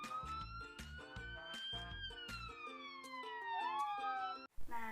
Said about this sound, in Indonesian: Jika mobil ambulan tersebut bergerak mendekati seseorang yang sedang berdiri lalu melewatinya